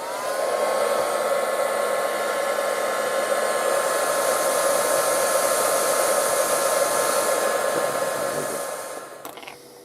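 A hair dryer blows steadily for about nine seconds to dry paint on a model, a loud, even whooshing hum close by that cuts off near the end.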